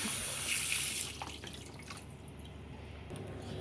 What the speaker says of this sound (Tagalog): Bago po natin i-blanch yung karne ng baboy, hugasan muna natin.